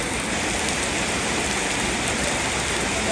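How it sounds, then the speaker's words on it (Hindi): Heavy rain pours down steadily, a dense, continuous hiss of drops on surfaces with no pauses and no voices. "बहुत तेज बारिश"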